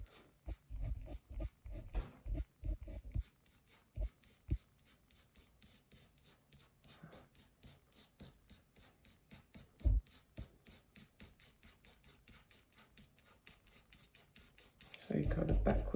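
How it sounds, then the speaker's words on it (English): A pencil scratches across paper in a long run of quick, even short strokes while shading a hedgehog drawing, soft and close, with heavier scrubbing bursts at the start and a denser burst near the end. "You can either use little flicks with the point of your pencil, or you could use your pencil on its side."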